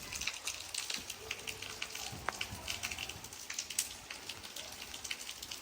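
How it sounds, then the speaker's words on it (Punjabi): Steady soft rain patters down in a village, a dense, even crackle of drops on surfaces throughout, quiet and without talk. "ਉਸ ਤੋਂ ਬਾਰਿਸ਼ ਸ਼ੁਰੂ ਹੋ ਗਈ"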